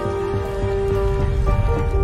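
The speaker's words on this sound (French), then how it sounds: "La pluie est de retour." Rain falls in a steady, even patter, with a sustained tonal drone running underneath throughout.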